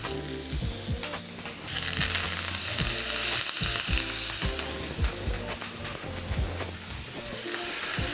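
Steak sizzling loudly in a pan with thyme and butter, a steady close frying hiss punctuated by rapid clicks and pops of spattering fat, with no talking.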